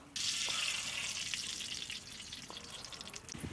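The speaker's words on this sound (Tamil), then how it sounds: "பச்சரி பிரியாணிக்கு முதல்ல கிரேவி பண்ணிக்கணும் அதனால் முதல்ல நெய் ஊற்றிக்கிறோம்" Ghee sizzles and crackles steadily in a pan as the gravy base for a Kerala Thalassery chicken dum biryani begins. The hissing is close and continuous, with a few faint clinks.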